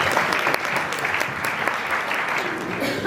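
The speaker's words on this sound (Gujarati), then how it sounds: "બોલો તાળી તો પડો." An audience claps steadily and densely in a loud, sustained round of applause at an upashray renovation and naming ceremony in Kesariyaji Nagar, Palitana.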